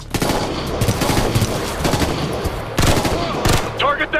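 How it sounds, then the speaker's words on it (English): Rapid automatic gunfire rattles through a Ghost Recon Future Soldier firefight, loud and continuous with dense bursts and heavier cracks near the end, mixed with shouted squad talk. "Who's shooting me?"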